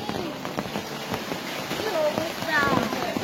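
Rain falls steadily on a surface nearby, a continuous patter with people talking over it.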